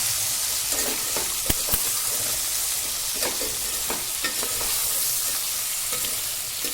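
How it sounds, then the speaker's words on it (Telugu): Vegetables stirred in a pan with turmeric and salt, a steady sizzle of frying with scraping stir strokes at irregular intervals, close and continuous, no voices. "కూరగాయలన్నీ కొంచెం మెత్తబడదాకా కలుపుకొని మూత పెట్టుకొని పసుపు ఉప్పు వేసి అయితే మళ్ళీ కలుపుకున్నానండి"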